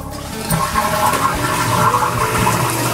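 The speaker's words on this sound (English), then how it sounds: "press on the plunger and let all the water activate and flush the toilet" A toilet tank flushing after the plunger is pressed, a steady loud rush of draining water filling the whole stretch without speech.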